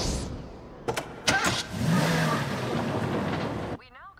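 A Mazda Miata engine cranks and catches in an animated scene, then revs and pulls away at moderate volume, with a short voice heard near the end.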